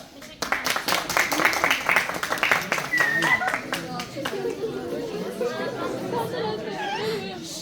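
Applause and chatter from a school audience at a Teachers' Day theatre club sketch, dense clapping filling the first half and fading into murmuring crowd talk, with voices audible throughout.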